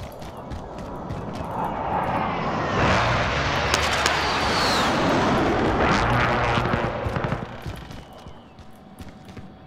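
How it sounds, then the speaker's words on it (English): Helicopter roars overhead in a multiplayer shooter game, swelling from a distance to a loud broadband rush with rhythmic rotor pulses, then fading away, with faint game sounds around it. "Bro, what's up with the helicopter, bro?"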